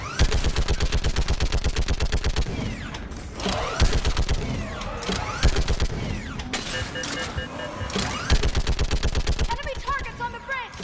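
Rapid automatic gunfire from the sci-fi shooter Mass Effect 3, dense bursts of loud rattling shots running nearly continuously with brief pauses, mixed with battle effects and occasional voice lines.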